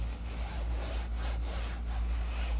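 A wool mitt scrubs a car seat in repeated back-and-forth strokes, a close, coarse rubbing sound pulsing in a steady rhythm over a low hum.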